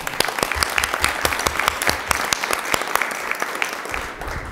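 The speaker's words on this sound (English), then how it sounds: "I just want to give Max a round of applause for coming up here" Applause for a speaker at a school board meeting: a short burst of close, sharp hand claps from a small group, fairly loud and tapering off toward the end.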